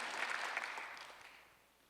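A church congregation at a Thanksgiving Sunday service breaks into applause, a dense, sustained wash of clapping that slowly thins and fades toward the end.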